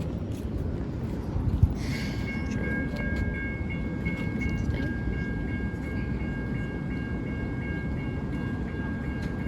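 A light rail train on a yellow line passes at a distance, its steady rolling rumble continuous throughout, with a brief high metallic squeal early on.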